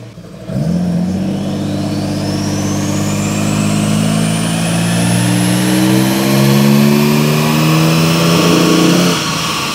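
A Mercedes W124 with a 3.0 engine on an EMU Classic ECU pulls away in third gear from idle, its engine note starting abruptly, then growing steadily louder and rising slowly in pitch at close range, with no voices.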